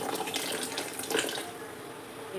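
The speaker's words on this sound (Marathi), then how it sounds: "दगडखार म्हणतात त्याचं पण पाणी केलेलं आहे, आणि ते पण टाकून देते" Rock salt water is poured into a pot while making ragi (nachani) papad dough, a steady close-up trickle and splash of liquid running continuously with no voices.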